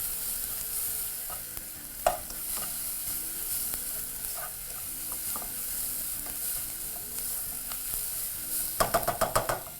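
Beef casserole mixture with cumin and nutmeg being stirred in a hot pan, a steady sizzle under soft scraping, with a quick clatter of utensil taps near the end.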